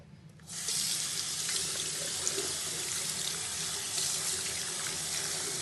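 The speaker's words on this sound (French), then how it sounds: "vous rincez avec de l'eau chaude" Warm water runs steadily from a tap into a sink for rinsing the face, starting abruptly after a brief quiet moment and then holding as a constant close hiss and splash, with no voices.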